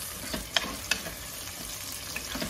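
Onions with a pinch of salt being stirred and sautéed in a pan for a lentil, zucchini and potato soup: soft frying hiss throughout, with a few sharp spoon-on-pan clinks near the start.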